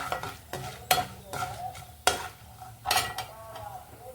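Amaranth leaves fry in a pan as a spatula scrapes and stirs in several sharp strokes over a quiet, low sizzle.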